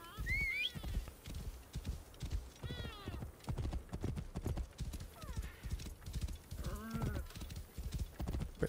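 Horse hooves clip-clop steadily in Assassin's Creed Origins gameplay, a close, rhythmic trotting with occasional whinnies and a faint game voice over it.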